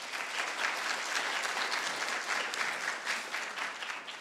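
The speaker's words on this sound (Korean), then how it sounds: "여러분 모두 공감하시면 공감의 박수 한번 부탁드리겠습니다" Audience at an international fair and sustainable tourism forum in Seoul clapping steadily throughout, a dense, even wash of many hands with no voices over it.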